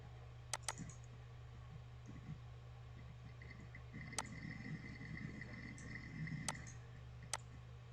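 A computer mouse clicks a few times, sharp isolated ticks spaced several seconds apart over a faint steady hum in a quiet room, with no talking.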